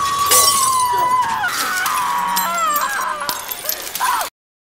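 A glass mirror smashed with an axe in a horror fantasy film scene: a bright, crashing shatter followed by scattered tinkling shards, mixed with dramatic film sound and dog-like whimpers.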